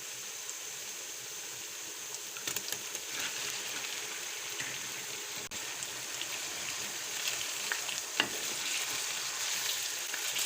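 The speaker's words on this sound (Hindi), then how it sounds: "चिकन का कलर चेंज हो गया है, लेकिन हमने इसे अच्छी तरह से फ्राई करना है।" Bone-in chicken, 1 kg, fried with light-browned onions in a pot for biryani, giving a steady close sizzle and crackle with occasional stirring scrapes and no talking.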